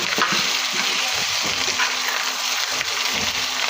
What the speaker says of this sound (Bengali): এবার আমি ডিমটা দিয়ে একটু ভেজে নিচ্ছি